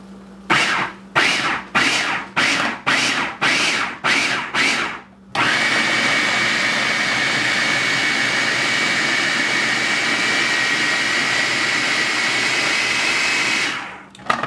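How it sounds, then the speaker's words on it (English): A Hamilton Beach food processor grinding ingredients for an alkaline burger: about eight short pulsed bursts, then one long continuous whirring run that winds down at the end, loud and close with no talking. "I have a Hamilton Beach food processor."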